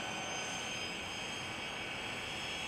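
A-10 jet engine roaring at full throttle in a flight video game, a steady, continuous loud whine and rumble with no talk.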